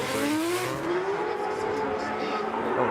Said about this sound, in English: Unfortunately, Itoyama, the chase car, spins out.